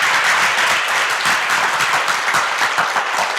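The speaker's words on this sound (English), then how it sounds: "let us give a big round of applause to them" A sustained round of applause from an audience at a youth talent day event, dense steady clapping filling the room throughout with no speech over it.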